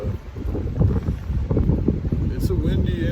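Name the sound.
wind blowing outdoors, wind noise on microphone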